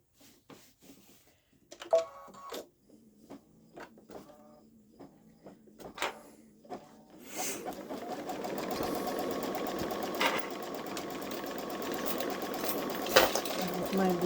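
Babylock Solaris 3 embroidery machine stitching a tack-down line over batting and yellow background fabric, starting with sparse clicks and taps, then a steady, fast, continuous mechanical whir, with someone talking softly over it.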